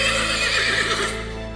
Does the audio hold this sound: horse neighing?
yes